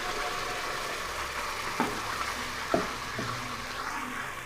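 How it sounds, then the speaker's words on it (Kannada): Onion and freshly ground masala frying in hot oil for kheema balls, giving a soft, even sizzle with a few sharp utensil clinks from stirring. "ಈರುಳ್ಳಿನ ಒಂದು 2-3 ನಿಮಿಷ ಫ್ರೈ ಮಾಡಿ ಈ ರುಬ್ಬಿಟ್ಕೊಂಡಿರೋ ಮಸಾಲೆನ ಇದಕ್ಕೆ ಹಾಕ್ಬಿಡಿ"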